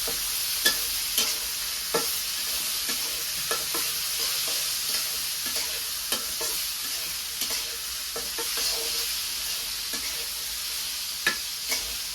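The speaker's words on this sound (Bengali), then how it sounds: "ভাজি দিয়ে দিছি চিকেনটা বাজির মধ্যে লবণ টবণ দিয়ে দিচ্ছি হলুদ দিয়ে দিচ্ছি" Chicken frying in a pan with salt and turmeric, a steady sizzle broken by frequent scraping clicks of a spatula stirring, close and moderately loud with no talk.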